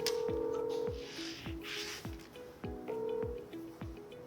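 A telephone number being keyed in, a string of about eight short dual-tone beeps in a steady rhythm, heard up close and alone with no talk.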